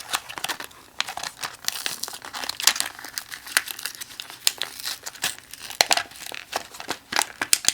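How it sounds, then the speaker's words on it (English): Packaging for an automatic closet light is opened by hand, giving a close, continuous run of crinkling and tearing with sharp rustles and no talking. "Inside of the packaging, it's very easy to open packaging, which is good."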